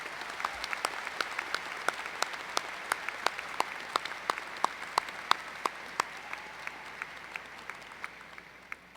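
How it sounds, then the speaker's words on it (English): Applause at an undergraduate commencement ceremony for a graduate, many sharp individual claps over a steady dense wash of clapping that holds for the whole stretch before tapering slightly. "Let's give Stephen a very warm round of applause."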